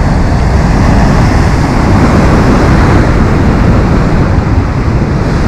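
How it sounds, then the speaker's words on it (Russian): Big storm waves crash and splash along a Black Sea shore at Lazarevskoye, a loud, dense, unbroken roar of surf with heavy wind buffeting the microphone throughout. "Брызги, большие волны."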